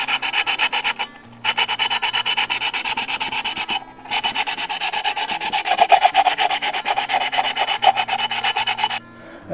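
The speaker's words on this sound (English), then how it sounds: "We're using sandpaper here, but you could use emery cloth" Sandpaper rubs back and forth against the cut edge of a glass bottle, a loud, close, rhythmic rasping scrape repeated in quick strokes with brief pauses.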